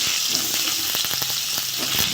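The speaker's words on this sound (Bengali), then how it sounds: "তেলে আমি আলুগুলো ভেজে নেব।" Potatoes sizzle in hot oil, giving a steady, close crackling hiss with a few brief pops and scrapes, and no voices.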